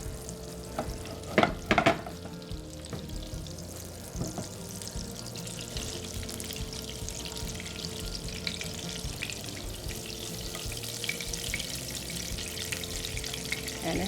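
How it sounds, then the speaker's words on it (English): Butter and oil sizzling in a hot frying pan before fish goes in, a steady close hiss with a few sharp clatters and knocks near the start, then a continuous even fizz with no voices. "I want to make sure the butter gets all melted and the frying pan is nice and hot before I add the fish"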